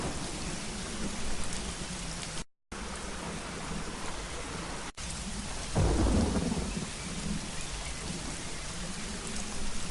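Loud, constant downpour from the Secret Files Tunguska game, broken by a brief dropout, with a low thunder roll building past the midpoint and rain continuing unabated.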